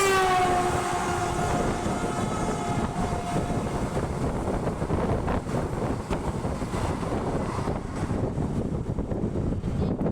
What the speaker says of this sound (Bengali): দেখুন সেই ট্রেনটি কিন্তু পাস হবে আমাদের পাশ দিয়ে